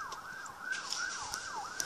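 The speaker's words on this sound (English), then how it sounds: "We have some sirens blaring." An ambulance siren wails in a steady rising and falling sweep on a street in Stratford, Ontario, fairly close and loud, sounding alone without any talking.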